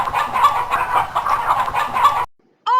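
A hen clucks in a rapid run of short, close, fairly loud calls, then falls silent before a brief higher call at the end.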